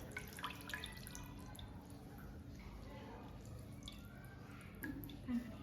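Excess water drains from freshly made homemade paneer in faint, soft drips and trickles, quiet and close.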